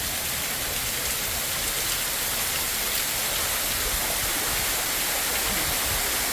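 Rain pours down steadily at the Grutas de Tolantongo river in Hidalgo, Mexico, a dense, unbroken hiss of falling water that stays loud and even from start to finish, with no voices.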